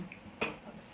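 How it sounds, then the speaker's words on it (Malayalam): Water pours briefly into a pot with chicken and oil while chicken biryani is being cooked, a short splashy gush rising and fading within a quiet kitchen. "വെള്ളം ഒഴിക്കണം"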